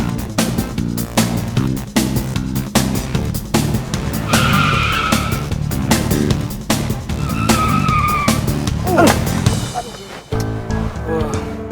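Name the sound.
car braking suddenly, tires skidding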